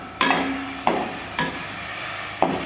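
Chicken frying with spices for biryani in a home kitchen, a steady sizzle punctuated by four sharp metallic clanks of a spoon stirring against the pot, close and loud with no talk.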